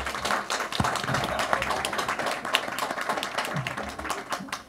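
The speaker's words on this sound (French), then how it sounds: "On peut l'applaudir bien fort déjà." An audience at a religious lecture on predestination and free will claps for a returning guest, a continuous, moderately distant ripple of many hands with a few sharper claps standing out.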